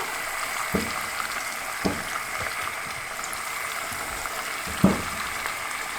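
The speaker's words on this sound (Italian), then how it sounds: "Aggiungiamo le patate" Potatoes are dropped into a high-sided pan with artichoke stems, giving a few soft thuds over a steady low sizzle of frying, close by.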